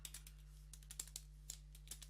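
Light, irregular tapping of keys on a computer keyboard while a Linux command is entered, quiet and close, with a steady low hum underneath.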